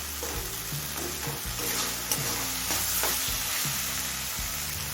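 Tomato masala sautéing over a medium flame in a pan for a paneer (chhana) tadka, a steady loud sizzle with repeated scraping stirs of a spoon across the pan, no voices.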